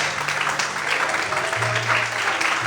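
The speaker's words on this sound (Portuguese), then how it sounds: "Quando podem aplaudir a Deus por isso." A Portuguese-speaking church congregation applauding during a sermon, a dense, continuous patter of clapping that holds steady throughout, with a low hum or voice beneath it.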